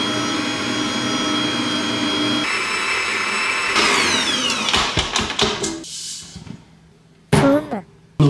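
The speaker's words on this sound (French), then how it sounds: "maintenant on met en route le batteur" Electric hand mixer beating a stiff pasta dough of flour and eggs, a loud steady motor whine that shifts pitch as the load changes, then breaks into uneven bursts and short stops near the end.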